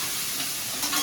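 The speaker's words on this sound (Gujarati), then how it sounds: "જો મરચાને ટમેટાનો વઘાર કરી નાખો." Chili and tomato tempering sizzling in a pan, a brief bright crackling hiss that flares a little louder near the end.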